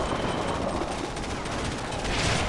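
Dense, continuous gunfire from Command & Conquer 3 Kane's Wrath hammers without pause, a loud, gritty stream of rapid shots that fills the whole stretch.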